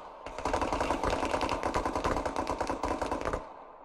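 An AK rifle fires full-auto in a competitive capture-the-flag shooter match, a single dense burst of rapid shots lasting about three seconds, fairly close and loud.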